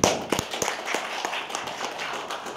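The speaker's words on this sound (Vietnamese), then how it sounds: "Chúng ta có một tràng vỗ tay để chào mừng anh Dines đến Việt Nam." Audience clapping to welcome a guest at an IT conference in Hanoi, a scattered burst of sharp hand claps with uneven rhythm, fairly close and moderately loud, with no voices over it.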